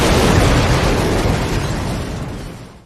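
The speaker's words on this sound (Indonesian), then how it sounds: "Ledakan besar kemudian terjadi dan membakar seluruh area." A large fiery explosion erupts over a pile of garbage, a loud sustained roaring blast that slowly fades over a few seconds.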